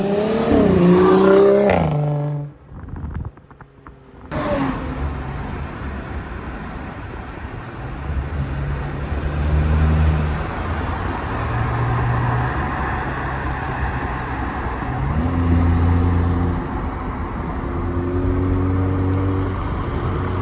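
A turbocharged BMW 535i with a cold air intake revs and pulls through the gears, engine tones rising and falling in repeated climbing runs, loud and close, with a brief sharp gap early on.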